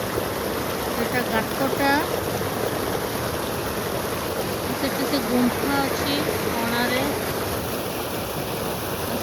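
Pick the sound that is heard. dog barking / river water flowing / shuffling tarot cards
river water flowing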